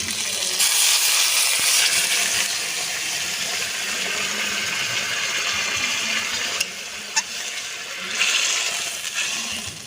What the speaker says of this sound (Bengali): আমি গরম জল দিচ্ছি।